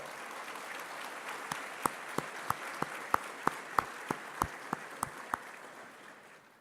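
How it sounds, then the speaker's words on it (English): Audience at a space festival opening ceremony clapping in a series of evenly spaced sharp claps over a soft crowd bed, faint and distant in a large hall, fading out at the end; no speech. "Please applause."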